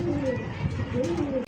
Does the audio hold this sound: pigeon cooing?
yes